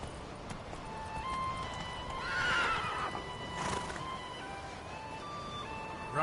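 Roach, a horse in a PS4 video game, runs with soft hoofbeats under a steady hum, and a bright whinny rises in the middle of the clip.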